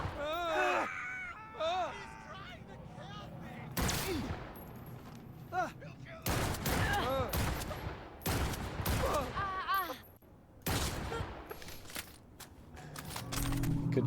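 Gunfire in Cyberpunk 2077: Phantom Liberty comes in repeated bursts of sharp shots and rapid automatic fusillades, loud and close, mixed with game voices and clanking effects.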